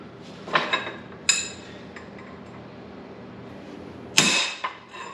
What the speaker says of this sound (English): Get you some center punches and center punch your spots.